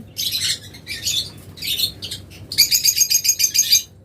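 Pet lovebirds in a cage shriek and chirp in sharp, repeated bursts, loud and close, ending in a rapid run of piercing calls.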